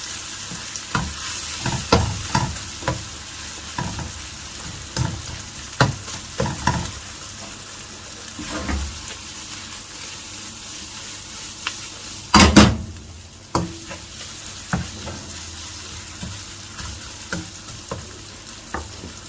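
Chicken cooking in a pan for fettuccine Alfredo, a steady frying sizzle punctuated by repeated spatula scrapes and taps against the pan, with one loud metallic clatter near the middle.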